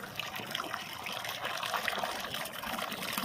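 Black swans bathe and feed in a pond at a water-lily farm, making continuous close splashing, sloshing and trickling water sounds with no calls or voices.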